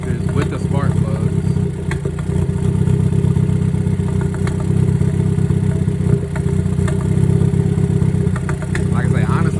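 A car engine with a cylinder 3 misfire, recently fitted with four new fuel injectors and spark plugs after the intake manifold was removed, idles with a loud, close, continuous rumble and faint irregular ticking and clatter.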